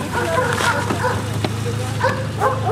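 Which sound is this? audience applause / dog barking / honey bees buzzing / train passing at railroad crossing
dog barking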